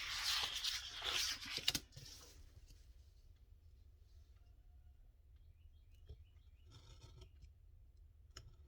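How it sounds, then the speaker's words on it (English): Scissors snipping paper for a handmade lapbook craft: a burst of loud, close crisp cutting crunches at the start, then a quiet stretch with a few faint scattered snips and rustles. "If I go a couple times on these, I might be able to get my scissors in."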